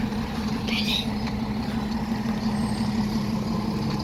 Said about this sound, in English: Oh, look, the bus is coming.